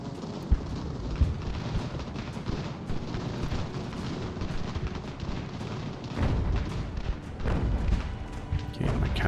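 Cannon artillery fire in Ultimate General: American Revolution, a dense, continuous rumble of overlapping booms and crackling shots that rolls on without pause, heavier toward the end.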